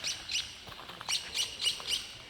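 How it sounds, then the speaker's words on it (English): Songbirds in a forested garden, a few clear repeated chirps in a quick rhythmic series, moderately close but soft against a quiet outdoor background. "The birds chirping out."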